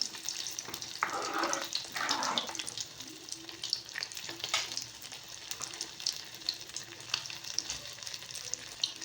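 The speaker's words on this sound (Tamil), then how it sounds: "இப்போது இது நல்லா கொதிச்சு வரட்டும், அப்புறம் மூடி போட்டு மூடிக்கலாம்." Snakehead murrel fish curry simmering in a pot gives soft, irregular bubbling and light sizzling, faint and close, with occasional small clinks and no talk.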